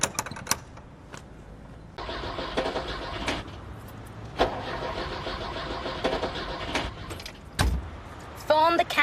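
An old car's engine is cranked in repeated long grinding bursts, fairly close, between short knocks and clicks, with people talking in a street scene.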